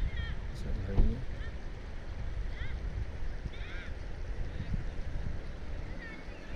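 Cold wind blows steadily through the Naran valley in Mansehra, Pakistan, a continuous broad rushing close to the microphone, with faint bird chirps and a brief thump over it.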